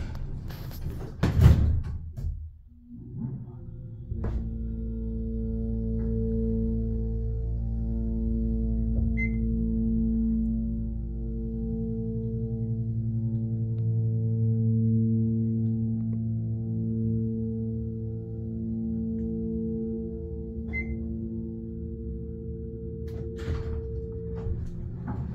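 Burlington/Dover hydraulic elevator with a troubled door running: a knock and clatter as the door works, then a steady low hydraulic motor hum with tonal whine for about twenty seconds, faint chimes twice, alone without talk.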